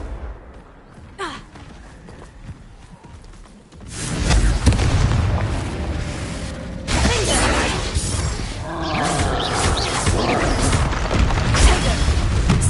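A Confringo fire spell explodes in Hogwarts Legacy: a loud, sustained burst of crackling blasts and magical whooshes that follows a quieter lead-in and stays dense and close to the end.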